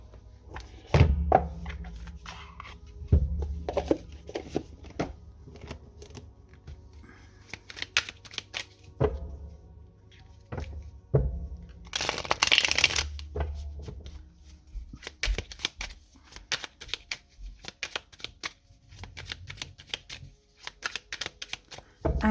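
Tarot cards shuffled by hand in a run of crisp riffling and slapping bursts with short pauses between them, close and fairly loud, ending in a brief dense flurry.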